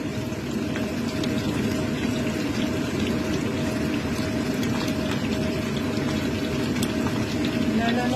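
Oil crackles and sizzles steadily throughout as salmon belly fries, a dense continuous frying hiss with scattered pops, close by.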